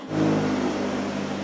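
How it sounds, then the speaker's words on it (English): A grinder works the tip off a custom-made towing receiver, its motor spinning up quickly and then holding a steady, loud, buzzing whine with a low hum underneath for the rest of the moment. "Gotta go grind that tip off."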